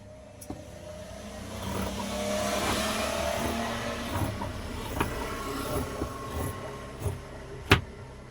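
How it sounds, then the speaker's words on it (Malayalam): Road traffic passes just outside a roadside tailoring shop: a steady wash of car and engine noise rises and falls over several seconds, with a few sharp knocks and clicks near the end. "നമുക്ക് കടയോട് ചേർന്ന് തന്നെ റോഡായതുകൊണ്ട് നിങ്ങൾക്ക് വണ്ടിയുടെ കുറച്ച് സൗണ്ട് ഇഷ്യൂ ഉണ്ടായിരിക്കും"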